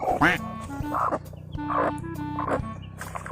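Chickens cluck and call repeatedly, several birds close by, with a steady low hum underneath and no talking.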